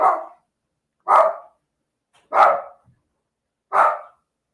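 A dog barks four times, evenly spaced about a second apart, loud and close with silence between the barks and no talk.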